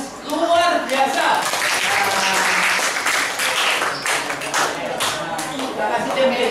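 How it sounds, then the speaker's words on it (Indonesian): A classroom audience claps in a dense, sustained burst for a student's answer, loud and close, continuing steadily for several seconds. "Kasih aplaus, jawabannya luar biasa."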